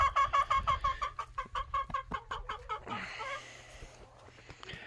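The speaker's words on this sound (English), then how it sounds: "You are the noisiest hen on the ranch." A hen clucks in a quick rhythmic series of sharp, close calls, then trails off into softer scratchy rustling.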